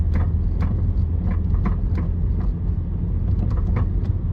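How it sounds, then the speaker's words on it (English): Front suspension of a Toyota MR2 Spyder with a failing front strut, giving repeated low knocks and clunks over a steady close road rumble, with no talking. "Does your MR2 clunk like this?"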